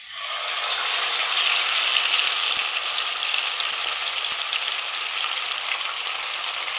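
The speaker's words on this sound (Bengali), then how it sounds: "মাছটা ফ্রাই করার জন্য চুলায় কড়াই বসিয়ে দিয়েছি কড়াইতে দিয়ে দেব সাদা তেল" Fish fries in hot white oil in a wok, a loud steady hiss of sizzling that starts abruptly and continues evenly, with a few faint clicks.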